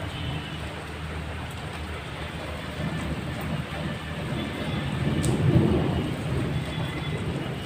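Heavy rain falling steadily during a storm, a dense broadband wash that swells slightly toward the middle, with low rumbling that may be distant thunder; no voices are heard.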